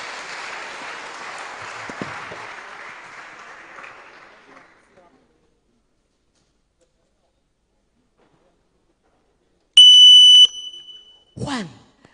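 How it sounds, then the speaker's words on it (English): Applause welcomes a student keynote speaker at a national public speaking competition final. A large audience claps loudly and steadily for about four seconds, then the clapping fades to silence. A sustained electronic tone and a short squeal of feedback follow. "Please, let's welcome him with a round of applause."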